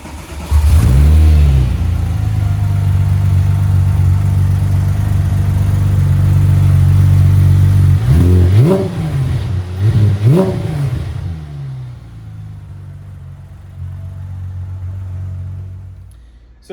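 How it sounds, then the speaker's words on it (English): A 2007 Porsche 997 GT3 engine starts and settles into a steady idle, then is blipped through a few sharp revs before dropping back to a quieter idle, heard close and loud with no talking. "And then we'll do a startup for you here."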